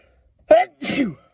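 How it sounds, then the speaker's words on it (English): One close, loud sneeze: a sharp inhaled catch followed by a forceful burst, alone in an otherwise quiet room. "That's me sneezing."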